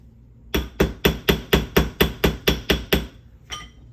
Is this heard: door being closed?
no